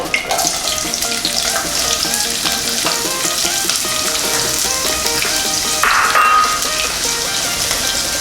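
Onions fry in heated oil as the first step of a Filipino escabeche sauce, giving a steady, dense sizzle that stays loud and continuous throughout with a brief brighter hiss near the end.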